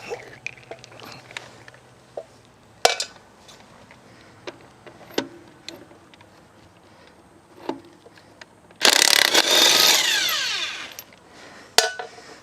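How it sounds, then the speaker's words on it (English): DeWalt cordless impact wrench with a 21mm socket removing lug nuts from a Nissan Pathfinder wheel: a loud burst of rapid hammering lasting about three seconds follows scattered clicks and knocks of tool handling, with one more sharp hit at the end. "I find these DeWalt battery impact wrenches to be quite good, and saves a lot of hassle with dragging pneumatic"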